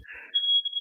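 A smoke alarm in a house beeps with a steady shrill tone following a brief muffled sound, close and fairly loud.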